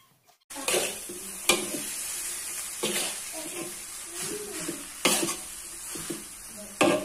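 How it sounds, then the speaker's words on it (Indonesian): Yellow noodles for mi goreng sizzle in a hot pan while a utensil stirs and scrapes, with sharp clanks against the metal at intervals. "Kemudian kita aduk-aduk kembali hingga tercampur rata."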